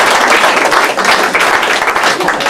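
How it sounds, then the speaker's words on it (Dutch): An outdoor crowd at a pearkekeatsen (pairs kaatsen) prize ceremony in Tytsjerk applauds a competitor named Johannes, with continuous, dense clapping that holds at an even volume from start to finish. "En applaus voor Johannes."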